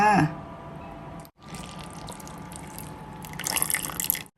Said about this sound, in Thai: เทน้ำมูลข้าวเหนียวลงไปเลยค่ะ